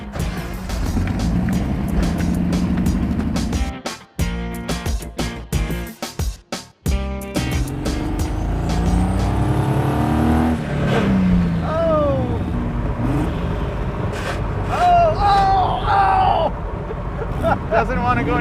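Chevy-powered 1971 Datsun 240Z with a junkyard turbo swap accelerating on the road, a loud revving engine that rises in pitch through gears with brief cut-offs, while people talk over it.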